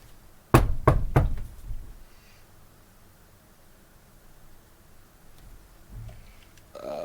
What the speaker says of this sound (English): Oh no, he'd hear the knocking.